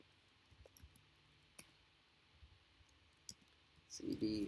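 Faint, scattered key clicks from typing at a computer keyboard in a terminal, sparse taps with quiet gaps, ending in a louder burst of clatter.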